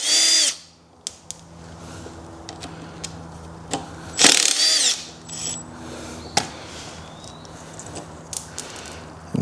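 A 13 millimeter power tool spins briefly to loosen the U-bolts on motorcycle highway pegs, a loud short whir with clicks of metal parts and light clanks, heard up close and without speech.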